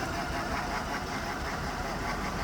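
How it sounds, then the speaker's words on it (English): A 2007 Mercedes CLK550 engine idles roughly with a misfire, giving a steady, close, uneven mechanical hum with no talk over it. "The engine should be smooth, but it's shaking, so there's a misfire."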